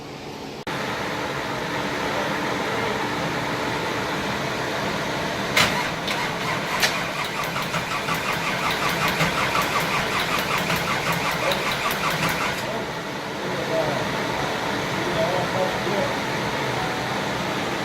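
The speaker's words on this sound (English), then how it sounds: "Right now we just cranking up to build oil pressure, so we're not starting it just yet." A Corvette C6 Z06 engine cranking without firing to build oil pressure, a steady close starter whir with a squealing, pulsing stretch in the middle, alone without talk.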